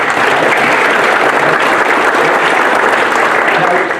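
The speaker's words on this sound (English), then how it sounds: "give them a round of applause" An audience claps for a volunteer at a talk on insider threats, giving a dense, even round of applause that holds steady for about four seconds with no talk over it.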